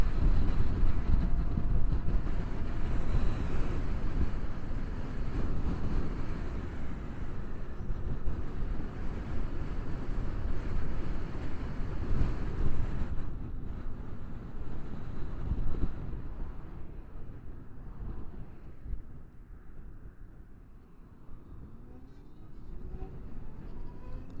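Strong wind buffets the microphone during a ride on an electric Zero motorcycle, a loud continuous rushing roar with gusty swells that eases somewhat toward the end.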